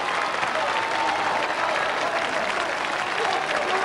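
Spectators line the route at the London Marathon as the leading men near the finish, and a dense, continuous roar of clapping and cheering fills the air at an even level.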